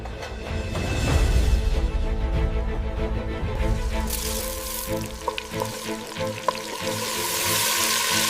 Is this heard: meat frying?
yes